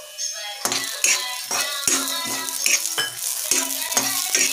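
Peanuts tossed into hot oil for poha chiwda, a steady sizzle of frying with repeated scraping stirs and light rattling against the pan, close and continuous with no talk.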